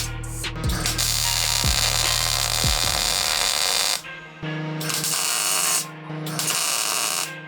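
Tack welding an engine mount on a Mitsubishi 2G Eclipse during a K20 engine swap: a few close, loud stretches of buzzing, crackling arc, with ticking clicks at the start and short pauses between the burns.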